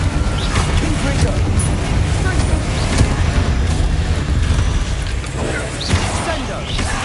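Confringo fire spell blasts in Hogwarts Legacy on PS5, a dense loud barrage of booms and crashing impacts layered over game music and effects, with several sharp bursts standing out across the stretch.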